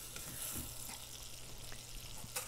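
Half a cup of butter melts in a pan with a faint, steady, soft sizzle and occasional small pops, close by with no talk.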